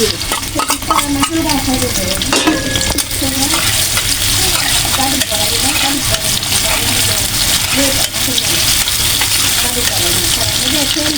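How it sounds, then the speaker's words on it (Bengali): Steady loud sizzling of onions frying in hot oil, with occasional stirring and scraping sounds throughout. "আমি কড়াইটা বসা দিছি তেলটা দিয়ে দিছি এখন পেঁয়াজটা দিয়ে"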